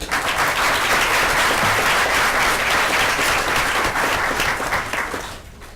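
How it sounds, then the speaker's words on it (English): Dense, sustained applause from an audience at a city school board meeting, loud and even for several seconds before fading out at the end. "How about one more round of applause?"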